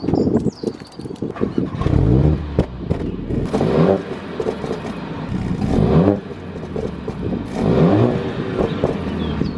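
A 2022 Mercedes-AMG A45 S 4MATIC+ engine fires up and revs several times in bursts, rising and falling in pitch, loud and close with no talking.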